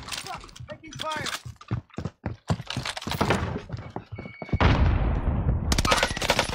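Gunfire in the Warzone battle royale game: rapid bursts of shots and sharp impacts during a firefight, loud and close, with players talking over the action.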